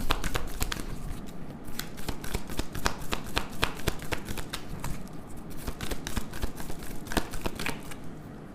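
Tarot cards are shuffled and drawn in a dense, continuous riffle of papery flicks and slaps, close and steady throughout, with sharp card snaps standing out and no speech.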